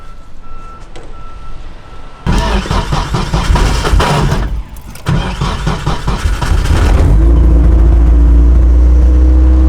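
A turbocharged Nissan S14 engine idles roughly with its fuel pump unplugged, a loud steady rumble that starts after a quiet stretch, dips briefly, then settles into a constant, heavier drone near the end.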